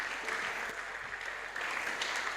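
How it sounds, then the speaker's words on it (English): An audience claps steadily at a 2024 Rotary Youth Leadership Academy gathering: dense, even applause with no break, fairly close and filling the whole moment. "Keep clapping."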